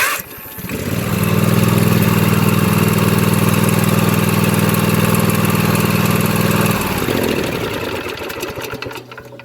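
A Cub Cadet riding mower engine cranks, catches and runs with a loud, steady buzzing drone for several seconds, then the pitch shifts and the sound tapers off near the end.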